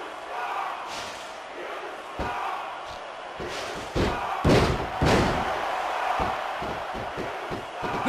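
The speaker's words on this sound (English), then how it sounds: "This capacity crowd is making their opinions known tonight." Arena crowd noise in the wrestling video game WWE SmackDown vs Raw 2006, a steady roar of spectators punctuated by repeated sharp slams and thuds from the ring.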